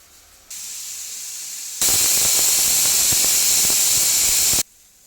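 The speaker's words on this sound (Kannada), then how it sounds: "ಹೈ ವಿಷಲ್ ಆಗಿದೆ ಆಫ್ ಮಾಡ್ಕೋತಾ ಇದ್ದೀವಿ" A pressure cooker cooking country chicken sambar lets out a loud, steady high steam whistle, a sharp hissing shriek that starts after a softer hiss and cuts off abruptly.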